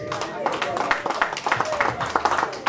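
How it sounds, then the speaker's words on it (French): A church congregation claps and applauds at a pastor's call, with a dense, steady patter of many hands and voices mixed in throughout. "Applaudissez le Seigneur, mon frère et soeur"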